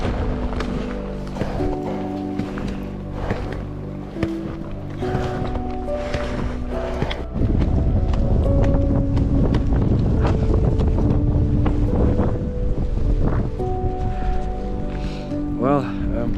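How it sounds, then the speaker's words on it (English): Strong wind in snowy mountains buffets the microphone in heavy, gusting rumbles that strengthen midway, while a person talks throughout. "the wind has picked up, that's for sure."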